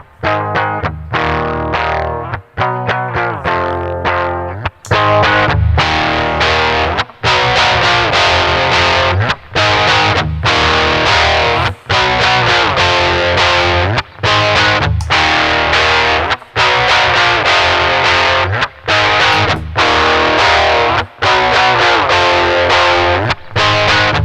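An electric guitar plays an aggressive, distorted rock tone through a Digitech CabDryVR cab simulator, loud and driving with rhythmic chugging chords and short choked gaps.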